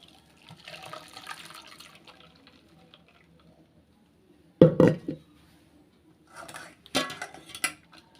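Coconut milk being strained in a home kitchen while making a summer sherbet drink: soft liquid pouring and trickling, then sharp clinks and knocks of a metal vessel and strainer in two bursts, close and fairly quiet.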